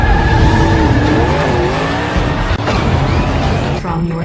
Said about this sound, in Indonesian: Setelah itu balapan pun langsung dimulai.